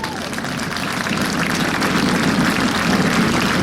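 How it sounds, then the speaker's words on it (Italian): An open-air crowd at the Jesolo air show claps and cheers for the Frecce Tricolori solo pilot. The applause is broad and continuous, growing slightly louder, with voices mixed into the crowd noise. "E dopo l'applauso al solista delle frecce"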